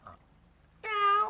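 A person imitates a cat, giving one short, clear meow-like wail after a faint soft murmur, close and fairly quiet against a near-silent background.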